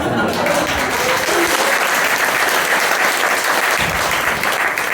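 Steady applause from a crowd at a political party members' meeting in Daegu, continuous and fairly loud for the whole stretch without a break.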